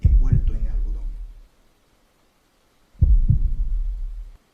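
An old man's heart beating as a sound effect, two heavy, deep, booming heartbeat pulses, each a low throb that rings on for about a second, with silence between them.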